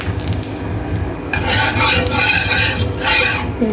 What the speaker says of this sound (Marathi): तेल छान पसरवून घेतलेलं आहे मी